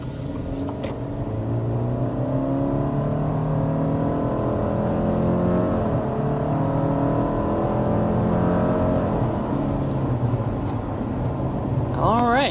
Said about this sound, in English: accelerating up to about 60 miles per hour with the 2024 Subaru Outback